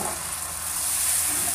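Two eggs sizzling loudly in a hot frying pan for scrambling, a bright steady crackle heard up close with no talking.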